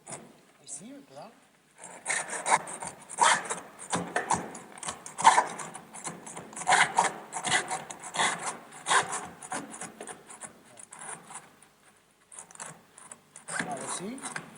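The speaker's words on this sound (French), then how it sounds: "le scier en 3 morceaux, soit avec une scie." A hand saw cuts dried stockfish into pieces with rapid, rasping back-and-forth strokes, close and fairly loud, with a short pause partway through and a voice faintly present.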